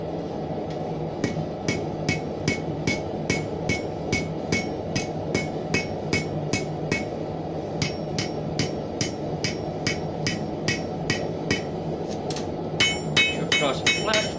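A hammer strikes hot 25mm steel on an anvil while forging a horseshoe keyring hook, a steady rhythmic series of sharp ringing blows, close and loud, quickening near the end.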